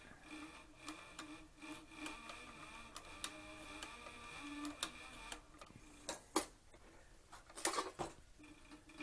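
A leather sewing machine with a servo motor stitches a flank strap for a Western saddle, its needle ticking in a slow, steady, faint rhythm with a few louder knocks.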